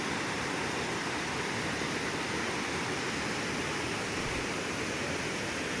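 Continuous roaring flow of water at Kolla Bailu waterfall, a loud, unbroken broadband rush heard up close and alone, without any voices over it.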